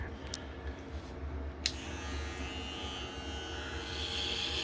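A Kemei KM 1986 electric hair clipper runs with a steady close buzzing hum as it cuts hair, the motor tone holding constant with small clicks and a faint shift in pitch as the blade moves.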